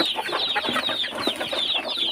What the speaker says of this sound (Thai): ยายคุกอาหาร ให้ไก่จ้ะ ยายไก่เลี้ยง